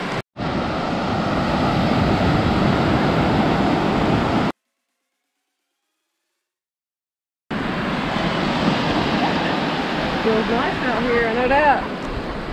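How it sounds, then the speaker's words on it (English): Beach waves wash steadily on the shore of Edisto Island, South Carolina, as a continuous broad surf roar with wind. It breaks off for a few seconds of silence, then resumes with faint chirping calls near the end. "Let you hear some of the soothing sounds of the beach waves"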